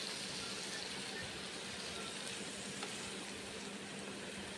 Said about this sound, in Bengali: ভিজে ভাতগুলো এইভাবে ভেজে নেবেন, ফ্রাই করে নেবেন